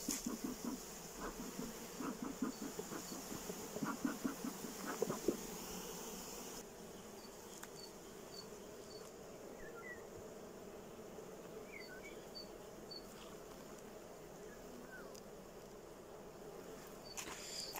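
Honeybees buzz at an open hive during a swarm split, a soft, steady, low hum running throughout without pause.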